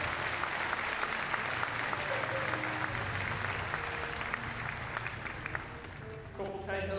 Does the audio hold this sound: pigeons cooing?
no